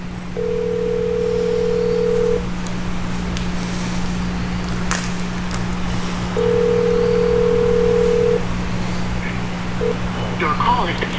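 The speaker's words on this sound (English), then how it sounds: "I'll just keep dialing over and over" A steady telephone dial tone drones under repeated short tones as a call is redialed over and over, with a voice talking intermittently in the background.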